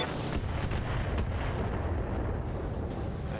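LRM-20 missiles fire at a tank in the mech game Battletech, a rumbling barrage of launches and distant booms with a few sharper cracks spaced through a dense, continuous roar.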